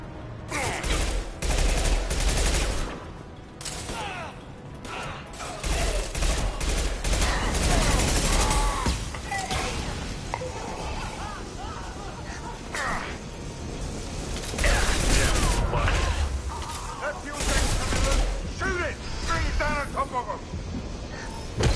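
A sci-fi video game impact shot blasts off amid a dense, loud stream of mechanical gunfire and clanking effects that run nearly nonstop, with game speech mixed in.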